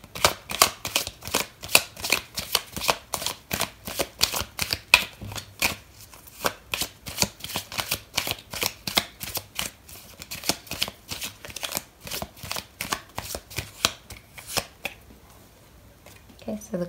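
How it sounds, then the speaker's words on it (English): Tarot cards shuffled by hand at close range, a quick rhythmic run of crisp flicking riffles that goes on steadily before slowing and fading toward the end. "So I'm going to pull out another card for you"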